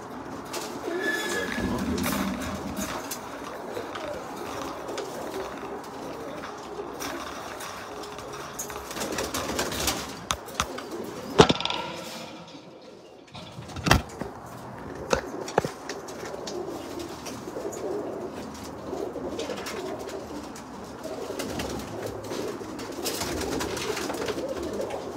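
Spinner pigeons coo steadily in a loft, a continuous low murmuring chorus with scattered wing flutters and brief louder bursts near the middle.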